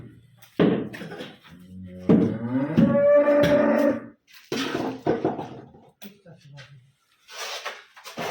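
A buffalo for sale in a village lets out a long, low moo, close by, with people chatting and calling out around it.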